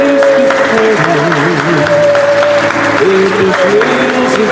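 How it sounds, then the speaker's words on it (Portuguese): A church congregation claps during worship, steady loud applause blended with singing voices and sustained music that carry over the clapping from start to finish. "Receba as palmas do teu amigos"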